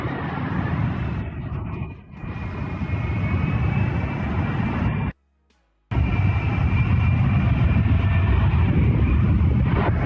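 An airplane coming in to land gives off a steady, loud, broadband roar that runs almost the whole time, broken by a short dip near two seconds and a near-silent gap around five seconds. No voices are present.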